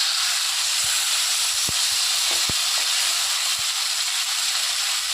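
Fish pieces coated in masala sizzle loudly in a pan without water, a dense continuous hiss with a few sharp taps and knocks as the pieces are turned one by one.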